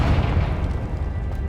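Confringo fire spell exploding in Hogwarts Legacy, a heavy low booming blast that rumbles on for over a second and slowly tapers off.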